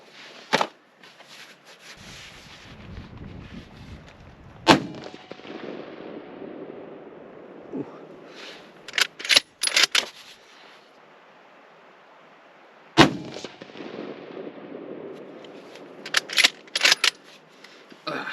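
Savage rifle firing Federal Gold Medal ammunition at a 100-yard range, with three or four sharp, loud shots spaced several seconds apart, each followed by a rolling outdoor echo and quiet handling noise in between.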